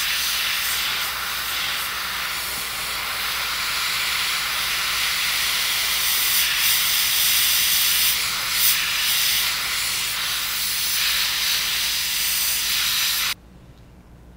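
Paint is sprayed lightly onto a ThinFin fishing lure, a steady close hiss lasting about thirteen seconds that stops abruptly, leaving near silence, with no talking.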